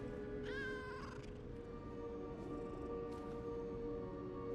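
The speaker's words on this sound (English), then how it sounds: "There's the kitty cat." A cat meows once, in a short rising-falling call from a small cat in the video game Lies of P, over a steady hum of game ambience and music, with no talking.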